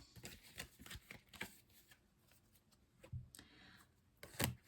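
Tarot cards are shuffled and drawn in a quiet room, with soft close riffles, slaps and taps in an irregular rhythm, ending in a sharper snap as cards are laid down.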